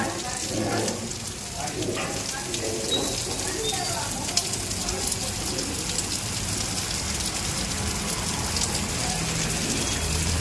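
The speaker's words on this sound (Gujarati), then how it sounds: "વરસાદ એ બહાર જો ચાલુ થઈ ગયો છે" Steady rain pours down outside in Dhoraji, Gujarat, flooding the road, a dense continuous hiss of drops hitting the ground, with a voice faintly heard early on.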